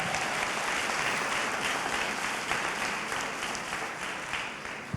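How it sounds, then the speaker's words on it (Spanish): A church congregation applauds loudly during a sermon, dense sustained clapping from a large crowd that slowly fades toward the end. "Si le va a aplaudir, apláudale al Señor."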